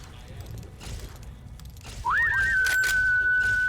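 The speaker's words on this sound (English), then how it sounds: "That whistling is absolutely unnecessary." In the game Fallout New Vegas, a sustained whistle rises in a quick swoop and then holds one steady high note, loud and clear over low background game noise.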